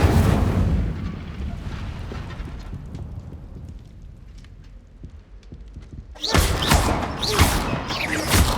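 A fire spell is cast in a Hogwarts video game, loud roaring bursts of flame at the start and again near the end, with quieter rumbling game sounds in between.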